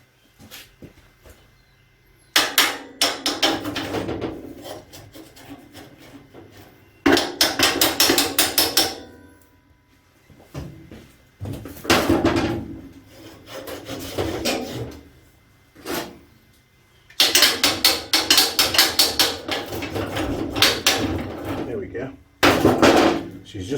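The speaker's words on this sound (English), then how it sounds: "Might need my hammer, hang on." Bursts of rapid, loud metallic hammer blows on a seized, corroded go-kart frame tube in repeated bouts, separated by pauses, with someone speaking briefly between strikes.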